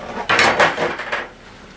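Shredded cheese being mixed into eggs in a pan with a utensil: a few quick scraping and clinking strokes against the pan, close and fairly loud, then fading to quiet.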